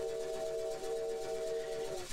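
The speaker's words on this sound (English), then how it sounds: "Whistle works." A steam engine whistle in a steam engine simulator game blows a steady, layered tonal blast for about two seconds over a soft hiss of venting steam, then cuts off sharply.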